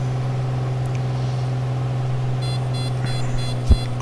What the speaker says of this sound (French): c'est le petit signal parce que j'ai trop baissé les gaz et puis il aimerait que je sorte le train. J'ai une alarme